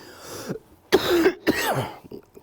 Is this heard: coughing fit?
yes